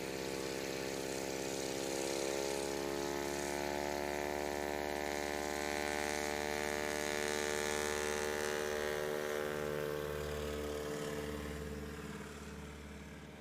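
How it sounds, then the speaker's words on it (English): A de Havilland Beaver's radial engine runs up to full power at a STOL practice event in Sulphur Springs, Texas, a steady droning hum with a rich, evenly layered tone that holds for many seconds with no speech. "Getting that engine totally spooled up."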